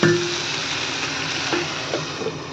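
Cauliflower masala sizzles steadily in a pan on the stove, a continuous close frying hiss with a few faint spoon scrapes as it is stirred, no voices.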